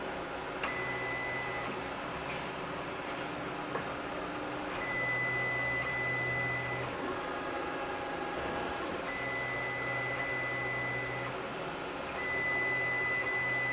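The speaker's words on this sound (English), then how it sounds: "I'm just trying to press auto leveling now and see what happens actually." A D9 300 3D printer runs its auto bed leveling routine, with steady motor whine and whirring punctuated by repeated beeping tones and short buzzing moves, fairly close and continuous with no talk.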